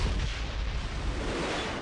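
Artillery fire in the video game Battlefield 1942, a dense, loud, rumbling blast that sustains as a low roar for nearly two seconds, with no voices.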